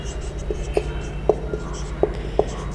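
Writing out the solution during a ninth-grade higher maths lesson produces short, evenly spaced scratchy strokes, about eight in under three seconds, close and fairly clear over a low background hum.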